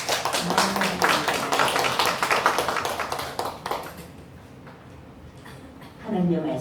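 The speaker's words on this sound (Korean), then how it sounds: "수고한 우리 친구들 우리 격려하는 박수 한번 쳐주겠습니다." A church congregation at a Friday prayer dedication service claps to encourage the performers, a dense burst of hand claps that fades after about four seconds, with a voice speaking briefly near the end.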